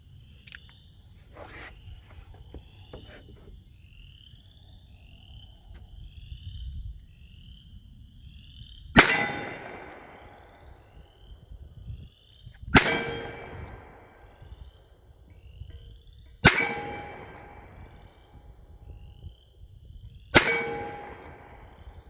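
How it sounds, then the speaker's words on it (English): A Smith & Wesson Performance Center 986 Pro Series 9mm revolver fires four shots spaced several seconds apart, each a sharp crack with a ringing clang from a steel gong target downrange, over faint outdoor frog croaks. "I'll shoot my white gong down here, just aim dead center and see where it's impacting."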